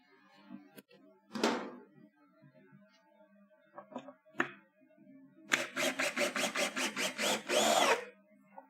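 Power drill driving a screw in a garage: a short whir early on, then a longer run of rapid, evenly pulsed bursts that ends in a sustained loud spin, with faint knocks between.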